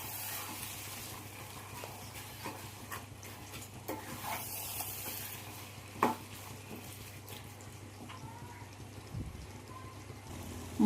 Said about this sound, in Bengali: এবার আমি মাটনটা মশলার সাথে খুব ভালো করে 5 মিনিট ধরে কষিয়ে নেব।